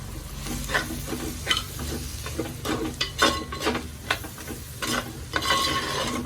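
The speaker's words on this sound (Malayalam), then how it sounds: "ഇതൊന്ന് മൂക്കണവരെ ഇളക്കി കൊടുക്കാം ഒരു മിനിറ്റ് ഒന്ന് ഇളക്കിയാൽ മതി" Chili powder and turmeric fry in a pan as the spices are stirred for a mackerel chili fish curry, giving a steady close sizzle broken by repeated scraping strokes of the spoon, with no talking.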